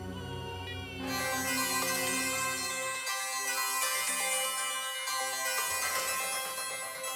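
A bright electronic melody rings out loudly and continuously, a tinkling repeated tune like a phone ringtone playing on its own.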